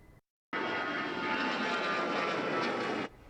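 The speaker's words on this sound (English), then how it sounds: "Did you hear the sound of the airplane?" An airplane flying overhead near Lake Wylie, a loud sustained engine roar that cuts in abruptly after a brief silence, holds steady for a few seconds, then drops away, with no talking.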